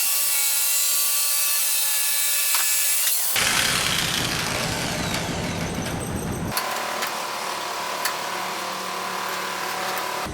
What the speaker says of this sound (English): we'll go back to the dad burn jigsaw